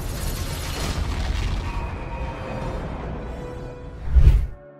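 A helicopter explodes in an action film scene, a dense rumbling roar building amid whooshing debris, then a sharp, loud boom near the end that quickly cuts off.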